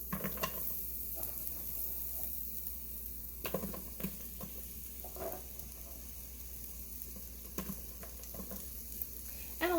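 Sliced red onion sautés in a pressure cooker pot with a steady, soft sizzle and light crackling throughout, punctuated by a few scraping stirs, close by and fairly quiet.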